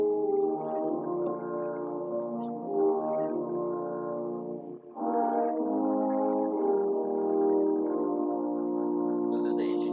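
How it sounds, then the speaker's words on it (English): A French horn section plays the opening of a film theme: sustained, rich brass chords swelling and held for the full length, with a brief dip midway, loud and close, no talking. "All that sound is French horns."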